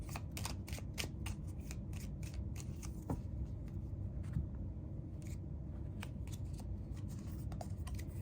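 Cards from a Whispering Woods tarot deck are shuffled and drawn in quick, light flicks and snaps, quiet and close over a low background hum, with no talking.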